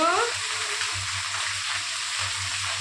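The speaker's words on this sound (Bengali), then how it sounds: "আর এবার সজনা পাতারে ভাজে তারপরে বাটা করবো" Drumstick (sajna) leaves frying in a pan, a steady close hiss of sizzling oil with a low rhythmic rumble beneath and a brief voice at the very start.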